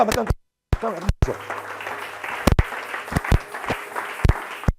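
Church congregation clapping during a sermon, bursts of applause and scattered claps around a preacher speaking over them.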